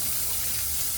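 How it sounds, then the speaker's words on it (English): Running tap water rinses a sprayer covered in slick soap, a steady close splash and gush that continues evenly without a break. "And let me rinse off my sprayer. It's covered in this slick soap."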